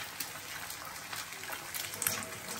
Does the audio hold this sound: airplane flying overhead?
no